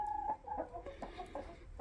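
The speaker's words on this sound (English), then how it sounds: "We got this huge cockerel in here. It's a Plymouth Rock." A large Plymouth Rock cockerel and a flock of hens cluck softly and intermittently nearby in a coop, short low calls repeating at an irregular pace.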